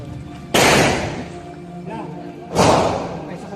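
Two sharp gunshots fired at an amulet ring during a talisman test, spaced about two seconds apart, each a loud broadband crack with a decaying tail over background noise.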